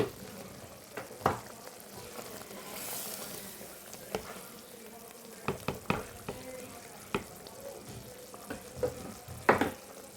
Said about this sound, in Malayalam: നമ്മുടെ അരപ്പൊക്കെ തിളച്ച് വന്നിട്ടുണ്ട്.